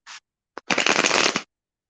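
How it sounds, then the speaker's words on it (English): A tarot card deck is shuffled close up: two short riffling flicks, then a dense burst of rapid card-on-card rustling lasting under a second, with no talk. "Let me shuffle for Love T Green."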